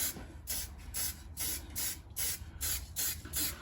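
Aerosol can misting a light coat over body filler on a Jeep Patriot, delivered as a rapid series of short, close hissing bursts with brief gaps between them.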